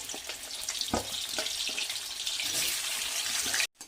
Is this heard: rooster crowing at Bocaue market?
no